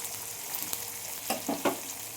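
Tomatoes frying in a pan, a soft continuous sizzle broken by a few quick stirring scrapes, close but quiet, with no voices.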